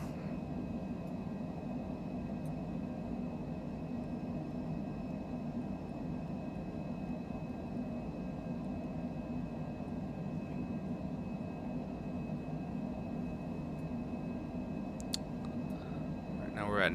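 Cessna Citation jet climbing in Microsoft Flight Simulator 2020 on a Los Angeles to Houston Hobby flight, a faint, even cockpit engine drone held throughout with a few light clicks.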